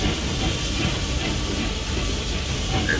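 Train in the video game Octopath Traveler 2, a continuous loud hissing rumble of a moving train with no talk over it.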